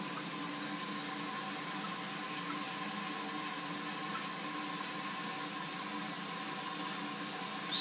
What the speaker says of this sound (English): So once the water reaches a certain level, it's going to start going down in the cup.